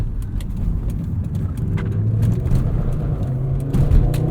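A 1997 Volvo 850 R engine rises in pitch and volume after a heel-toe downshift into second gear, a loud, close, rumbling rev heard from inside the cabin, building toward the end with faint interior clicks.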